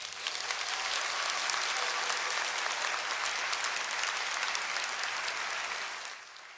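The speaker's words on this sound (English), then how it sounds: "Can we give them a round of applause?" Sustained, dense audience applause at a law school hooding ceremony for graduates, steady and loud throughout before tapering off at the end, with no talking over it.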